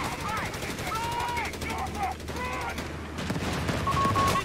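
Gunfire rattles around a command post in the strategy game Company of Heroes 3, steady bursts running under radio-style unit voices and other game chatter throughout.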